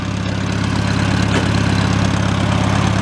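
A 1952 International Harvester McCormick farm tractor engine idles close by, its steady, loud, low rumble pulsing evenly throughout with no talking.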